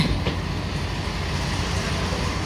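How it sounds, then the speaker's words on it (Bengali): The Rupashi Bangla Express, bound for Benapole, rolls into Bhanga junction with a continuous loud rumble of wheels and carriages, steady clatter close by throughout. "বেনাপোল অভিমুখী রূপসী বাংলা এক্সপ্রেস ট্রেনটি এখন প্রবেশ করেছে ভাঙা জংশনে"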